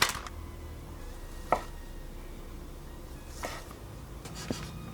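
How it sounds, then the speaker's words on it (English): A knife slices kielbasa on a cutting board, giving a few isolated sharp cuts and taps spaced a second or two apart over a low background hum. "Now I'm just going to slice these. I'm going to slice this way."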